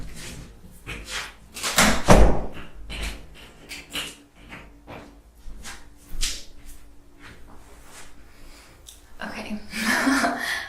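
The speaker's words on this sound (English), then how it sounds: "I locked my door, so hopefully my cat doesn't come in." A door is closed and locked indoors, making a sharp slam followed by fainter clicks and rattles of the lock, with a person speaking softly around the sounds.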